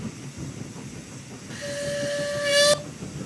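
A German wartime Kriegslok steam locomotive sounds its whistle over a constant hiss of steam; the shrill tone rises in and holds for about a second before cutting off sharply, then the hiss continues.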